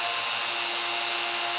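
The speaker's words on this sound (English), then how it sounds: "the drill bit is actually going through the sea glass" A drill press boring through a piece of sea glass under water for jewelry making, giving a steady, loud, high-pitched whine with a constant hum beneath it, unbroken throughout.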